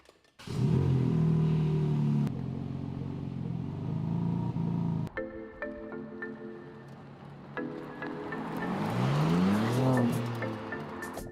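A BMW M3 pulls away and drives off, its engine note rising and falling through revs, with a loud steady rumble and climbing pitch sweeps toward the end, no voices.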